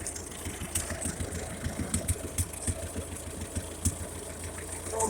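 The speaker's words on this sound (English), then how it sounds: "Runs a hell of a lot better with that new carburetor on there." A Ferguson TO-35 tractor engine with a new carburetor runs steadily at idle, a low, even rumble with faint irregular knocks and clicks, heard from nearby with no one talking.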